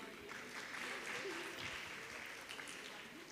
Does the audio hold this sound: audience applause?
yes